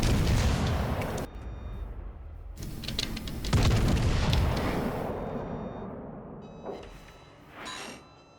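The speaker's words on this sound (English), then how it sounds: "That's another good salvo right there." Heavy battleship main-gun salvos from the Bismarck in World of Warships Legends, tier 7 naval combat: two or three deep, booming blasts in quick sequence, each with a long rumbling tail, followed by fainter distant shell impacts.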